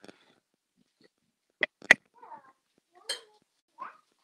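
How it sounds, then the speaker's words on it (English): A cat plays with a loud ball toy indoors, producing a few scattered sharp clicks and rattles separated by quiet gaps. "Olivia, I swear to God, stop it with the balls, with the toys. Please, just play with something that's not a loud cat toy"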